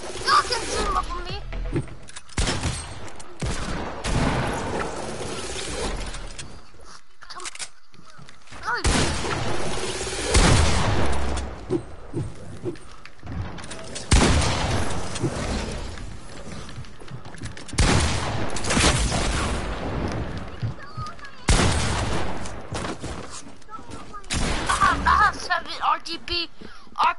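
Rapid bursts of RPG fire and explosions in a squad-based video game, loud and dense with repeated blasts and crackling gunfire across the whole stretch, with a voice talking intermittently over the action.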